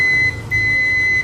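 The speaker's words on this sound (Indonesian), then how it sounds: "Kita coba ini untuk buzzer ya." A buzzer on a Schneider PLC trainer kit, triggered by a push button, sounds a loud steady electronic tone that cuts out briefly then resumes, alone with no talking.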